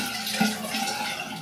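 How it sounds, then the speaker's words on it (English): Hot water runs straight from a tap in a steady, close rush with a small splash partway through, and no one speaks. "I'll take some hot water, okay? Just straight from the tap"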